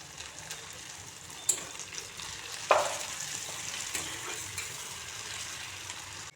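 Chopped tomatoes dropped into hot oil with onions and garlic for a duck egg curry, a steady close sizzle with a couple of brief sharper crackles and light stirring scrapes, no talking.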